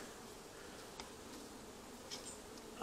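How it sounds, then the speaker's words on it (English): Honeybees in a busy hive fill the air with a dense, continuous buzzing drone, close and steady, with a few brief louder passes from individual bees. "It's a busy hive."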